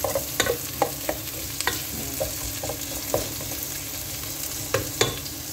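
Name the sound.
ginger being stirred and browned in a pan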